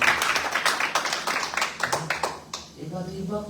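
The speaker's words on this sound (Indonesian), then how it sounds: "Berikan tepuk tangan untuk Tuhan." A church congregation claps in rhythm, the claps sharp and steady and fairly near, then tapering off as a voice speaks over the end.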